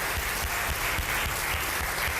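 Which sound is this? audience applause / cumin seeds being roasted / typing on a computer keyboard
audience applause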